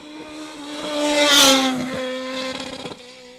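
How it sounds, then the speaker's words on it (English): A small rally car at Mull Rally 24 screams past close by, its engine held high on the rev limiter with a buzzing, bouncing note that swells to a loud peak and then fades as it pulls away. "Sounds great, this car. Glorious sounding little car. On the limiter."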